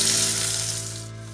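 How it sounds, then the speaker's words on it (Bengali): Potato pieces frying in hot oil in a wok, a broad, hissing sizzle that is strongest at the start and fades slightly, with a faint steady hum underneath and no talking. "কড়াইতে তেলটা গরম হয়ে গেছে, 3 চামচ আন্দাজে তেল নিয়েছি। প্রথমে দিয়ে দিলাম আলু টুকরোগুলো"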